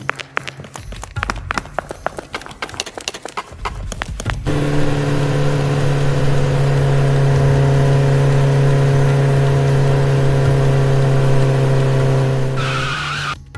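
An animated motorbike engine revs hard in a steady, loud, sustained tone after a few seconds of rattling, sputtering start-up, then cuts off near the end.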